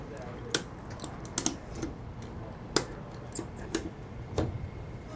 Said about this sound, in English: So get that pulled as tight as I can here before we start ratcheting.